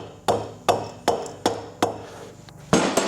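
A plastic or hide hammer taps a part on a classic Triumph Trident T160 motorcycle during recommissioning: six sharp, close knocks at an uneven, roughly even pace, the last one loudest.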